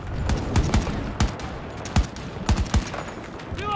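Rapid bursts of video game gunfire from Battlefield 2042 crackle in uneven clusters, sharp and close, with a steady background hum between shots.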